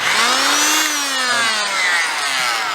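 Oscillating multi-tool blade cutting into a seized boat propeller, a loud, close, high buzzing whine that dips slightly in pitch under load and then continues steadily.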